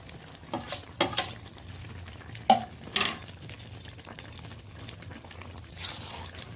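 Dried fish (shutki) curry being stirred in a pan, with a few distinct scraping and clattering strokes over a low, steady simmer-like hiss, close by and without any talking.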